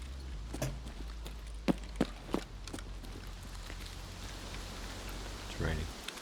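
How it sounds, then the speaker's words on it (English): Rain falls steadily in Escape from Tarkov, a soft continuous patter beneath a low ambient hum, with a few sharp taps or footsteps scattered through and a brief swell near the end. "It's raining."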